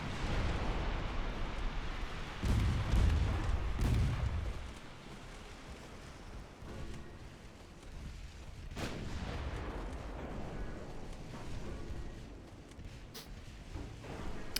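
Naval gunfire and explosions from a warship battle video game, with heavy booming blasts in the opening seconds, then scattered sharp reports and rumbling impacts over a steady background of sea and engine noise during a torpedo run.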